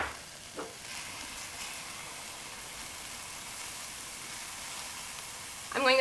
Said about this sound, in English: I'm going to stir these together for about a minute and then add the leftover turkey.